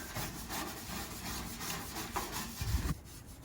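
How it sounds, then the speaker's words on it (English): Scrub brushes work cleaner into the engine compartment of a 1965 Malibu SS. Bristles rub in a steady back-and-forth rhythm, close and fairly quiet, with a heavier thump near the end and no talk. "Got a couple of scrub brushes to work it in."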